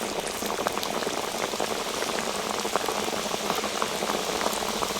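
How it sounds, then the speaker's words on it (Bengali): Pieces of moglai porota deep frying in hot oil, giving a dense, continuous crackling bubble that stays loud and close throughout, with no voices. "আমাদের তেল তো গরম হয়ে গেছে এখন আমি মুগলাইগুলো ছেড়ে দিচ্ছি"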